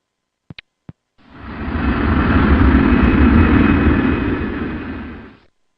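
A fixed-wing airplane passes with a steady, loud broadband engine roar that swells in, holds for about four seconds and fades away, preceded by a few sharp clicks, with no talking.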